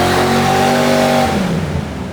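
A Ford Mustang Foxbody engine on a dyno revs hard, a loud, close, sustained roar climbing in pitch, then cutting off and fading near the end.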